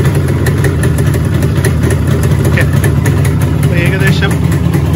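A car engine fitted with an Allied Lighting coil idles steadily at about 1500 RPM with its battery disconnected, a loud, even mechanical hum running unbroken while someone talks over it.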